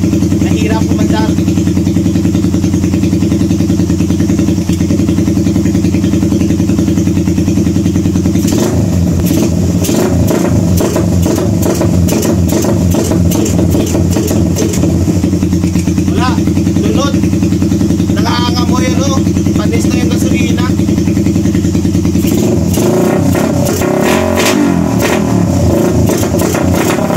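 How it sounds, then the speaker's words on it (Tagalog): A Suzuki Raider 150 motorcycle engine runs close by, idling with a rough clattering rhythm, then revving repeatedly in sharp bursts throughout. "dahil napandar na natin yung Raider"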